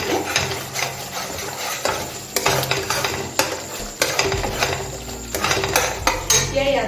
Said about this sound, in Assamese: আৰু অকণমান লাৰি দিম।